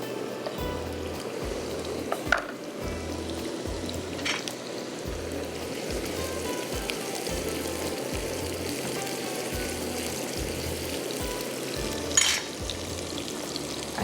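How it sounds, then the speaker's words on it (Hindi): Dahi shola kabab ingredients fry lightly in a pan with a steady close sizzle, broken by occasional stirring scrapes and soft knocks, continuous for the whole stretch with no voices. "अच्छा, इसको ज़्यादा ब्राउन नहीं करना, हल्का सा ऐसे ही फ्राई करना है।"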